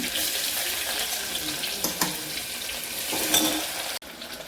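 Chopped onion fries in oil tempered with mustard seeds and cumin, making a steady, moderately loud close sizzle with a few light stirring clicks.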